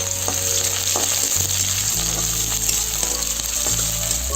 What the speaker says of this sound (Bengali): তাহলে পেস্টটা ভেজে নেবো ভালো করে।